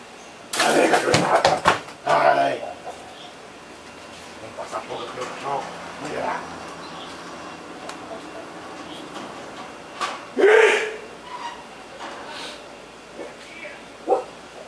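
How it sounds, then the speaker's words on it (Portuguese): A dog barks a few times close by, then yips and whimpers in short bursts while someone talks over it in a workshop during an amplifier exciter board repair. "O cachorro querendo me invadir aqui."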